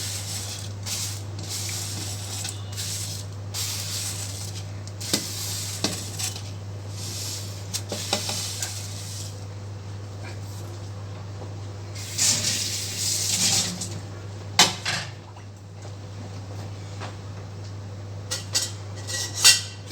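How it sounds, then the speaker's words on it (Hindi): Hakka noodles dropped into a pot of boiling water, a wet splash with clinking of utensils and metal pot sounds in a home kitchen over a steady low hum, with no talking. "सो नूडल्स हम लोग के रेडी है. तो हमने अभी उबलता हुआ पानी में डाल देना है."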